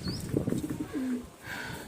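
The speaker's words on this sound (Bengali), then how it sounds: "আপনাদেরকে দেখাচ্ছি পায়রাগুলো" Pigeons in a loft give a few soft, low coos close by, with a couple of brief higher chirps and a faint rustle, quiet overall and with no talking.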